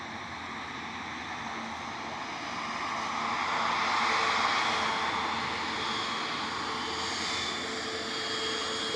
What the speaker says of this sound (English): Heading up to Edinburgh on a positioning flight, A350 1000, then heading out to Orlando.